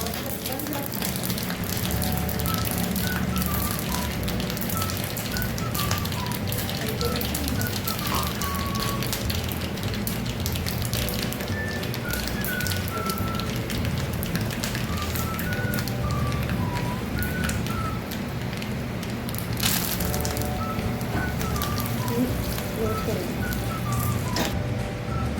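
Cumin, mustard seeds, asafoetida and curry leaves sizzling in about two spoons of hot oil in a small tempering pan, a loud, dense, continuous crackle with scattered pops, close up throughout.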